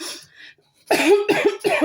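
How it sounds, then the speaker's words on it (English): Three harsh, close coughs in quick succession, preceded by a softer breathy throat sound. "Sorry, I'm coughing a lot lately"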